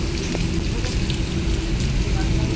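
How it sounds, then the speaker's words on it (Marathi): Steady rain falling outdoors at night, a continuous close hiss of drops on surfaces filling the whole stretch, with a faint voice briefly audible underneath. "मस्त पाऊस पडतोय"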